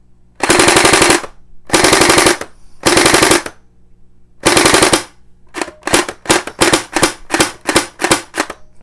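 Splat-R-ball SBR 1200 gel blaster firing fully automatic: four loud sustained bursts of rapid rattling shots, then a quicker series of short clipped bursts, close and alone.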